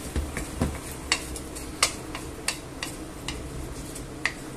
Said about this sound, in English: So this, I'm just going to mix everything about.